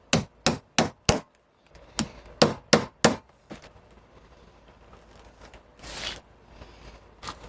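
Holes are punched in leather for Mandalorian boot flares, struck by a hammer in sharp, loud blows. First comes a quick series of four, then a second group of four, followed by fainter tapping and handling noises, all close by.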